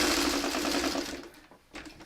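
A sewing machine stitches quilt patches in a fast, even mechanical chatter that slows and stops briefly, then restarts, close and alone.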